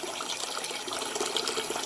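Rinse water poured off rice during washing, a steady splashing, trickling flow running close and fairly loud for the whole moment with no talk.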